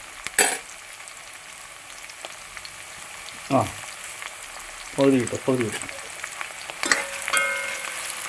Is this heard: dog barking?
no